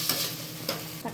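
Green vegetables for a Nilgiri kurma are sautéed in a pan, producing a soft, brief sizzle with a couple of stirring scrapes and no voices.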